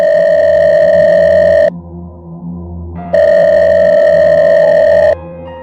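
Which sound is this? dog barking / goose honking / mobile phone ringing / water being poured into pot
mobile phone ringing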